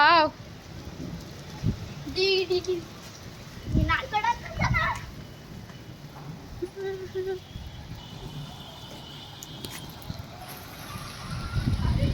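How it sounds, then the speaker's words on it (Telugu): Heavy rain with big drops pours down in Hyderabad, a steady broadband hiss of water on surfaces running throughout while children's voices and nearby talk rise over it in short bursts. "చూడండి ఫుల్గా అయితే వర్షం స్టార్ట్ అయిపోయింది"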